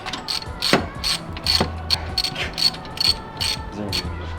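A ratchet works on the strut of a Subaru WRX to disconnect the lines, producing a quick, close series of bright metallic clicks in short bursts with brief pauses.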